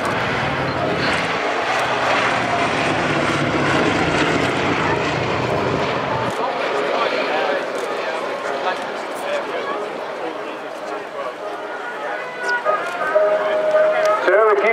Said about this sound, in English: This aircraft, as I say, the last remaining airworthy B-17 in Europe